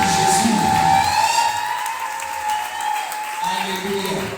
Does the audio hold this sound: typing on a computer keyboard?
no